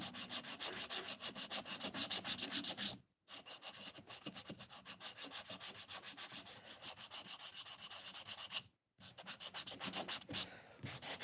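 Rapid back-and-forth rubbing of sandpaper on wood, close and steady, with two brief pauses between strokes.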